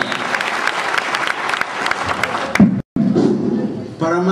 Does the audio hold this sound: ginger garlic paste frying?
no